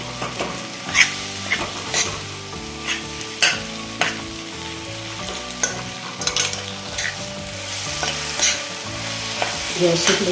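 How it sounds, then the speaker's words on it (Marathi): Jaggery being stirred into a mango methamba mixture in a pan over the gas flame, with steady scraping stir strokes and soft sizzling throughout, a few sharper clinks of the spoon against the pan. "अर्धी वाटी गोळ घेतलाय आता गोळ यामध्ये आपण मिक्स करून घेऊ"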